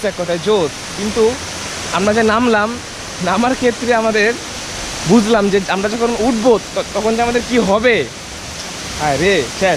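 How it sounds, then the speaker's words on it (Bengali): A waterfall keeps up a steady broadband rush for the whole stretch, sitting mostly beneath near, continuous conversation that dominates the foreground. "আমার সামনে ওই যে ঝর্ণা,"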